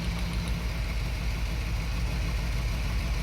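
A 1976 Dodge D100 pickup with a Mopar 440 V8 idles steadily during fault diagnosis, a continuous low rumble close by with no talk over it.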